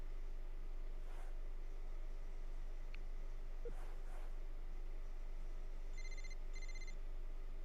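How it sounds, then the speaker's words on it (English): Phone notification chimes ringing out during a college basketball video game session, two short, clear electronic double tones near the end over a constant low hum and faint background noise. "I'm hearing notifications."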